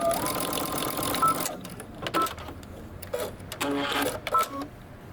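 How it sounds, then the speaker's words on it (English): A sewing machine stitches a 5/8 inch seam closed ahead of a double hem, running in a steady mechanical whir that stops and restarts in short, close bursts with quiet gaps between. "now we're going to stitch this closed first and then do a double hem"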